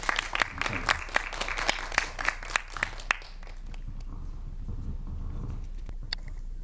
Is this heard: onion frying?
no